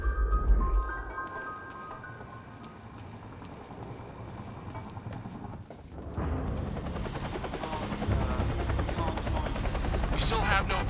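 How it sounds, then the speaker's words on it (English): A helicopter in the game Quantum Break, first a distant rhythmic rotor chop under tonal game sounds, then a sudden loud rush as the rotor noise swells close and fills the scene. "Better get inside before the chopper spots me."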